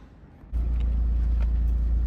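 A 2010 Hyundai Genesis Coupe R-Spec 2.0T starts up and settles into a steady, close, low engine drone that holds loud and even after a brief quiet moment.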